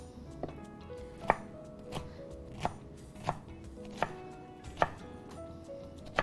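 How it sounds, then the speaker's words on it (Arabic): Fresh parsley and mint chopped on a cutting board with a knife, regular crisp thuds roughly every two-thirds of a second, close and fairly quiet, with no talking. "حنرجع الحين نفرم"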